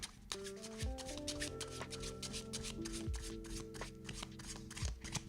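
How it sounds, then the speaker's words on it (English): A deck of playing cards being shuffled by hand, with rapid riffling flutters and soft snaps repeating steadily at close range, alone and fairly quiet, with faint musical notes underneath. "Shuffling the card."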